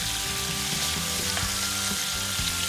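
Chopped onion sizzles loudly and steadily in a hot frying pan coated with browned drippings from cooked wild boar, deglazing the pan for gravy, with occasional stirring scrapes and no voices.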